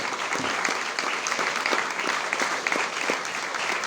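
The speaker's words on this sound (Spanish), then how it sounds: "Denle otro aplauso al Rey de Gloria mientras entramos en calor." A congregation at a church service claps in sustained, dense applause, steady and fairly loud throughout, with a voice faintly audible underneath.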